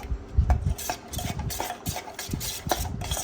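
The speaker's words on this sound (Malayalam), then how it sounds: "അപ്പം അങ്ങനെ അത് നമുക്കൊന്ന് ഇളക്കിയെടുക്കാം." Papadavada batter with sesame and chilli powder is stirred in a bowl, giving a series of irregular scraping and clinking strokes of a spoon against the bowl, close and fairly soft.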